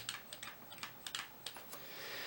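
Keys clatter on a refurbished Commodore 128D keyboard, a quick irregular series of crisp plastic clicks heard close and alone, ending in a soft hiss.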